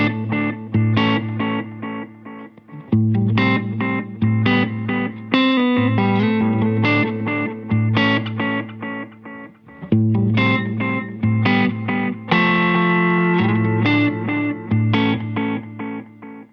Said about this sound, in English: The next one is the FTE, which is their tape echo